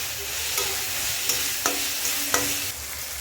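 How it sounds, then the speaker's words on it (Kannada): Tomato frying in a pan, with a continuous soft sizzle broken by several sharp scrapes and clinks of a utensil stirring against the pan. "ಈ ಟೈಮಲ್ಲಿ 1 ಟೊಮೆಟೊ ಆ್ಯಡ್ ಮಾಡಿದ್ದೀನಿ. ಮತ್ತು ಚೆನ್ನಾಗಿ ಫ್ರೈ ಮಾಡ್ಕೊಳ್ಳಿ."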